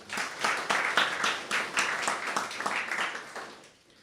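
A symposium audience gives a steady round of applause for a library team, dense clapping filling the room for about three seconds before tapering off toward the end.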